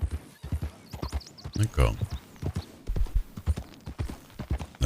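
Horse hooves clip-clop in a steady, close rhythm while people talk in French over the hoofbeats.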